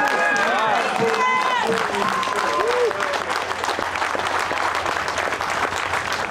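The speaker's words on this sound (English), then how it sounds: "let's clap it up for all of you that came to support us" Crowd at an off-road wrecker games event clapping for supporters, a lively mass of applause with cheers and whoops rising over it early on, then settling into steady clapping.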